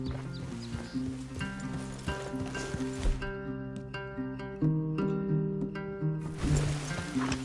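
Horses clip-clopping at a walk in a PS4 video game, steady hoof beats under a layer of game music and ambient sound, fairly close and moderately loud.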